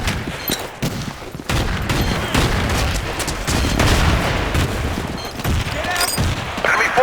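Frag grenade blast amid heavy gunfire in Battlefield 2, with dense overlapping bursts of rifle and automatic fire and a booming explosion, loud and continuous, with faint game voice callouts mixed in.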